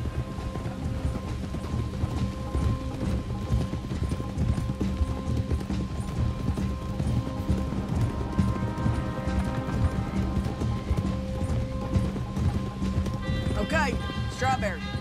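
Horse hooves clip-clopping at a steady run in Red Dead Redemption 2 under a dense layer of game music and ambient noise, with a snort or whinny near the end.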